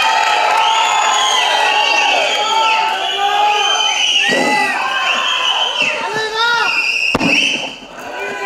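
A loud crowd of fans at a film pre-release event cheers, whistles and shouts continuously, with excited voices rising and falling and a sharp bang near the end.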